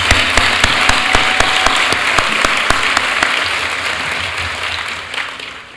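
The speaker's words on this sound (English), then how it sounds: "So I think that deserves some applause." Audience applause at a business hall of fame gala dinner, dense steady clapping from a large room, loud at first with a few sharp individual claps standing out, then slowly fading toward the end.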